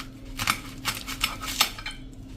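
A knife slicing through a cabbage on a cutting board, several crisp cutting crunches and taps in an irregular rhythm, close and clear over faint room noise.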